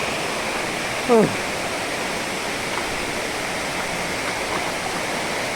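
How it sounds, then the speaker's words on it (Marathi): A hidden waterfall at Panval near Ratnagiri in Konkan roars as a loud, steady broadband rush of falling water, with a short chirp-like call briefly rising above it. "हा आहे हिडन वॉटरफॉल पानवलचा एक सुंदर असा धबधबा"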